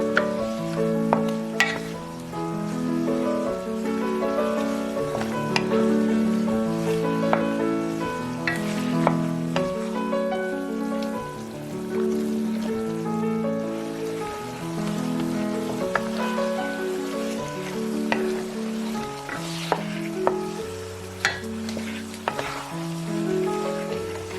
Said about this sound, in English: Add the lobster and jalapeños, tossing everything together so the lobster is coated in that rich aromatic sauce